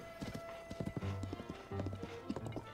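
A horse gallops in Zelda: Tears of the Kingdom at night under a blood moon, rapid hoofbeats clattering in a fast rhythm with a whinny mixed into the game sounds.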